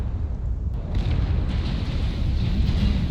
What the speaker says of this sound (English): All I hear is explosions of our team dying right now.